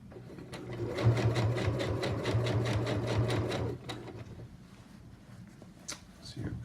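A sewing machine stitches a jeans hem in a fast, even run of needle strokes that stops partway, followed by quieter handling clicks.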